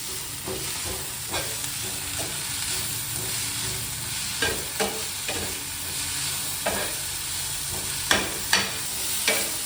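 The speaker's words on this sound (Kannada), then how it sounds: "ಇದನ್ನು ಸ್ವಲ್ಪ ಚೆನ್ನಾಗಿ ಫ್ರೈ ಮಾಡ್ಕೊಂಬಿಡಿ." Leafy greens frying in a pan for a veg donne biryani masala, a constant close sizzle broken by repeated scraping strokes of a spatula, with sharper knocks toward the end and no talking.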